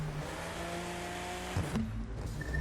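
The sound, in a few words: BMW Z4 M40i engine in video game The Crew 2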